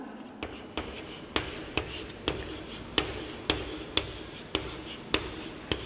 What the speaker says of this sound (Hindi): इसी वाक्य को अगर मैं दूसरे तरीके से लिखती हूँ